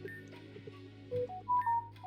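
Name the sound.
phone notification sound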